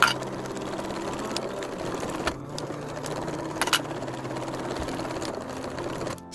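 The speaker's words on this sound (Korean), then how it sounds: "양쪽은 1cm 간격으로 재봉합니다." A sewing machine stitches fabric seams while making a pouch, running as a fast, steady mechanical whir with a few sharper clicks and knocks, heard close up and without speech.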